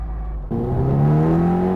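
A Porsche's high, rising fourth-gear gearbox whine sets in abruptly over a low engine drone, growing steadily louder and higher in pitch as it accelerates.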